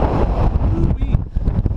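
Gusty wind buffets a microphone in a steady low roar on a chilly Saturday morning outdoors, with brief lulls and faint background noise.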